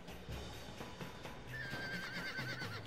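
A horse in the Red Dead Redemption video game gives a clear, shrill, wavering neigh over a low rumbling game soundscape. Hoof clops sound faintly underneath, with no talking.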